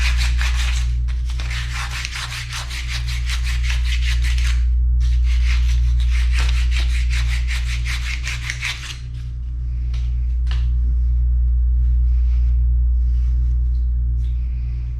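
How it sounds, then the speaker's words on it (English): A part from an NP208 transfer case is sanded by hand with 220-grit sandpaper where an O-ring seats. Quick back-and-forth rubbing strokes come in two close bursts, then a few sparse scrapes, over a steady low hum. "I've gotten some 220 grit sandpaper"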